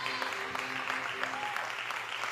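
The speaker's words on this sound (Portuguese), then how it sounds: "Você pode aplaudir o seu Deus." A church congregation applauding during a Portuguese-language sermon on Isaiah, a steady wash of clapping with some voices mixed in throughout.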